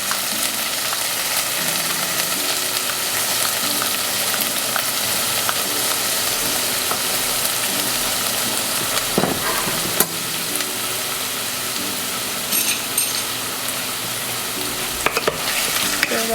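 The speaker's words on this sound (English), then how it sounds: "Stir that up a little bit." Sofrito with tomato paste fries in a pan over medium heat while being stirred, a loud, continuous sizzle with occasional scrapes and knocks from the utensil, and no talking.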